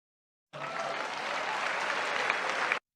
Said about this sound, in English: Why are you applauding for tents?